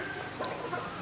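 A large straight-combed pumpkin-coloured rooster on a farm gives soft, low clucks, brief and fairly faint against background noise.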